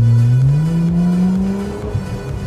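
A Mitsubishi Galant Saber engine, fitted with a Unichip tuning module, revs loudly in Drive nearby, its tone climbing and then easing back down over a couple of seconds.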